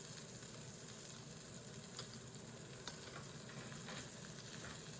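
Butter melting and cooking down in a hot pan for fillet gives a steady, close sizzle with faint crackles throughout, no voices.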